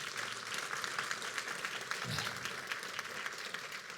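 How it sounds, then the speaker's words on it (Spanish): A church congregation claps during a worship service, broad and even applause at moderate level with a brief low thump partway through, continuing throughout without speech. "Dale un aplauso al Señor."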